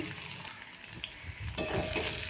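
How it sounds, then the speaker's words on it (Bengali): Onions frying in oil in a kadai, a steady broadband sizzle that brightens and grows louder partway through, close up with no voices. "কড়াতে তেল বসিয়ে দিয়েছি তেল গরম হয়ে যাওয়ার অপেক্ষা না করে পেঁয়াজ দিয়ে নিয়েছি"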